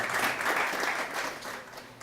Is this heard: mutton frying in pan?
no